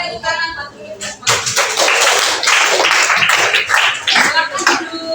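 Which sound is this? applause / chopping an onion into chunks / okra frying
applause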